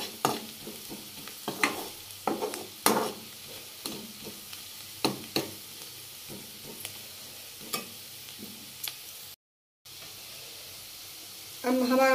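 Green chilies with masala cook on medium in a pan, a soft steady sizzle broken by regular utensil scrapes and stirs, with a brief dropout near the end.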